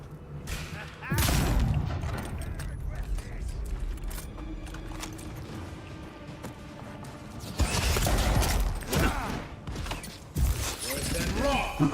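Gunfire in the Avowed fantasy video game: a heavy burst of shots early, then a denser volley of booming blasts and thuds later, over a murky in-game background.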